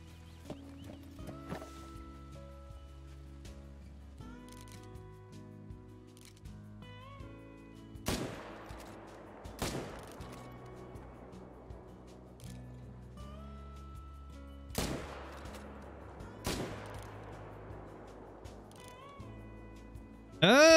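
Rifle shots ring out while hunting red deer in the video game Call of the Wild: four sharp cracks spaced a few seconds apart over a quiet game soundscape, with a sudden loud burst at the very end.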